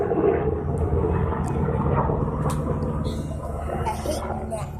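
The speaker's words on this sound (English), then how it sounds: "I'm gonna pause for a minute while this helicopter flies over" A helicopter passing overhead outdoors, a loud steady low rumble and drone that fills the whole stretch and fades slightly toward the end, with faint scattered background sounds.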